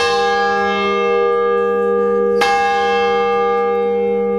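The Konrad bell of the Waldhausen collegiate church is struck once midway, a bright clang over a steady, sustained ringing hum that hangs through the whole passage.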